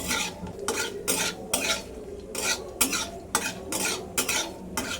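A spoon scrapes and stirs through whole spices sizzling in mustard oil in a pan, about ten quick rhythmic strokes over a faint frying hiss.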